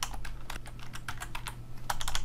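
Rapid typing on a computer keyboard, a dense run of close, crisp key clicks with no pauses, steady and fairly loud against a low hum.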